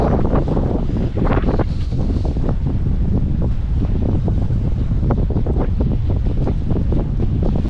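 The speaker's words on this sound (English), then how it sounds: "There is a ton of wind today." Strong wind buffeting a sailing boat at sea, a loud continuous roar of gusts against the microphone mixed with rushing water and hull noise, no talking.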